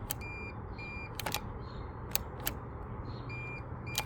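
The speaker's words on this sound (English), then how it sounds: "I'm getting a beeping sound." Short, high electronic beeps repeat irregularly from a Greenworks Pro 60V battery lawn mower over a low engine-like hum, fairly quiet.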